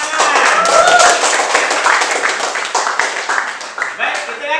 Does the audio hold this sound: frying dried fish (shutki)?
no